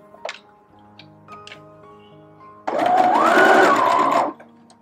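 A Brother FS101 sewing machine stitching a zigzag, starting after a few faint clicks and running as a steady, loud whirring burr for under two seconds before stopping.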